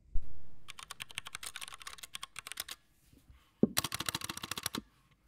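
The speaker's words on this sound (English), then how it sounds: "This is the Alt, the Drop Alt ALT. Listen to how different these sound." Typing on a Drop Alt mechanical keyboard: two bursts of rapid, crisp key clacks close up, separated by a short pause, with no talking.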